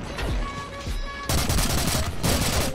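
M4A1 rifle fire in CrossFire HD, a few separate shots followed by a loud continuous automatic burst, close and dense.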